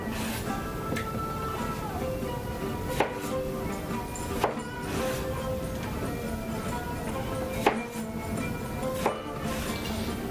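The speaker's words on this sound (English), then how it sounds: "the tomatoes right here, just cut them in fourths" A knife cuts tomatoes into quarters for shrimp soup, a few scattered firm chops on a board over a steady bed of kitchen noise and background sound.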